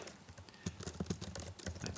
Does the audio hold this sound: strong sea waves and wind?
no